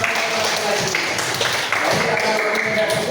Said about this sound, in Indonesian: tepuk tangan untuk teman kita yang sudah